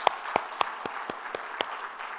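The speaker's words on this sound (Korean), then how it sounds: "하나님께 영광의 박수입니다" Sparse clapping at a church service, a handful of distinct sharp claps spaced roughly evenly over two seconds, fairly quiet and without speech.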